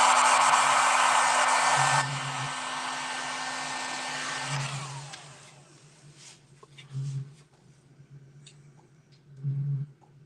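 A heat gun warms a part while making motorcycle lowrider patterns, giving a loud steady blowing roar that cuts out at about two seconds. A quieter hiss follows, then fades, with a few low thumps.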